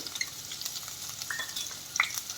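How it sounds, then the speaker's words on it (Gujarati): Finely chopped onions sauté in a pan for paneer tikka masala, giving a continuous soft sizzle with light scraping and a few brief clicks. "ડુંગળીને પણ આપણે સારી રીતે સાતળી લઈશું"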